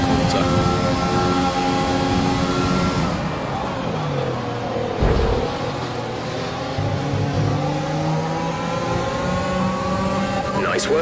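Engine of a Williams Formula 1 car in the F1 2020 racing game screams at high revs, rising and dropping through gear changes, with someone talking over it throughout.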